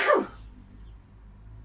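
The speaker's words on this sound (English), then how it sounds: "I'm going to sneeze." A single sharp human sneeze bursts out close and loud indoors, then fades quickly into quiet room tone.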